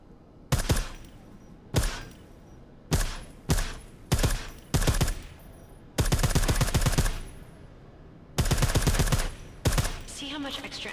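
Silenced gunfire in Deus Ex: Mankind Divided, sharp suppressed shots fired singly and in rapid bursts, including two sustained automatic volleys, loud and close with quiet gaps between them.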